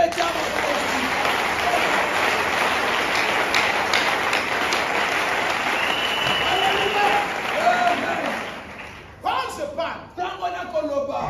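A church congregation applauds during a Sunday service in Congo Brazzaville, a dense, steady wash of clapping that holds for about eight seconds before breaking off into scattered voices and a few last claps.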